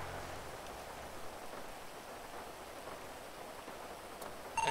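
Rain falling outdoors, a faint, even hiss of drops that continues steadily and softly throughout, with a brief louder rustle at the very end.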